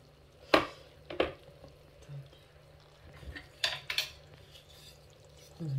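A wooden spoon working inside a pressure cooker pot of cooked beef in juice: a few separate scrapes and knocks against the pot, sharp and close, spaced apart by quiet stretches.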